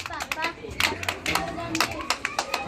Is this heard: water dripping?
no